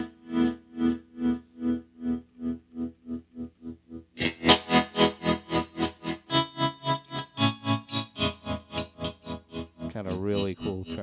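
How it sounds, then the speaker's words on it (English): A guitar runs through the tremolo effect of a TC Electronic 2290 delay, its volume pulsing in a steady rhythmic throb that speeds up and brightens partway through, close and alone. "Kind of really cool tremolo sound"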